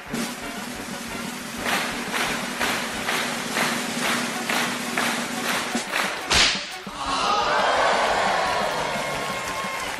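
A circus-style whip act cracks a whip again and again in a quick, regular series of sharp snaps, ending in one loud crack followed by a broad rushing wash of sound.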